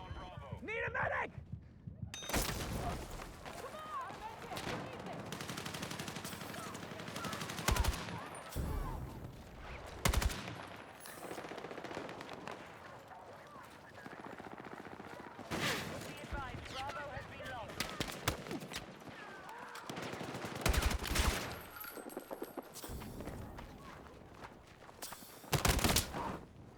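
Video game gunfire crackles in repeated bursts and single shots, some sharp and close and others farther off, spread throughout under frequent talking.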